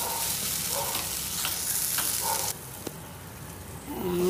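Vegetables for a veg sandwich frying in a pan, a steady close sizzle with a few stirring scrapes. The hiss drops after about halfway, then swells again near the end.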